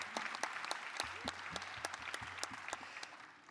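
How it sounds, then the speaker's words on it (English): Scattered applause from a small audience at a women's caucus meeting, sharp individual claps that thin out and fade toward the end. "give Lottie a round of applause"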